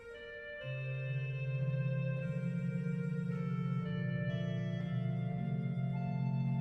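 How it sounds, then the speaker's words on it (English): A Dulcian reed stop on the Bovenkerk pipe organ in Kampen, heard from a sample set as a solo voice: a buzzy, reedy melody held over a steady accompaniment, loud and continuous with no speech. "the Dulcian can actually be used as a solo voice again, which I like to do. It sounds like this."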